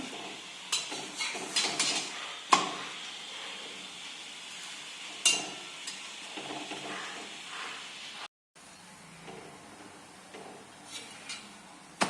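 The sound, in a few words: methi paratha roasting on a hot griddle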